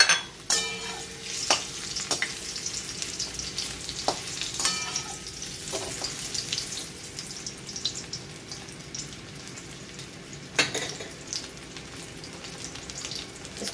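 Potatoes frying in hot oil sizzle steadily at close range, broken by a few sharp clinks and scrapes of a utensil against the pan, with no one speaking.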